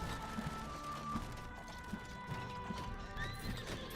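A horse in the video game Halls of Torment neighs and whinnies over a steady clip-clop of galloping hooves, with a soft game soundtrack droning underneath throughout.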